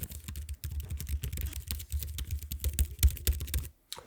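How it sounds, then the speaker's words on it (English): Mechanical-style keyboard on an Asus ROG Strix Scar 17 gaming laptop typed quickly and steadily, with dense snappy clicks close up for about three and a half seconds before stopping. "Almost has that like snappy mechanical keyboard click, but it's not too loud."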